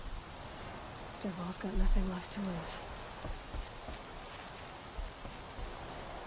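Steady rain hisses in the video game Horizon Zero Dawn, a soft constant patter beneath a character speaking and a few brief musical tones.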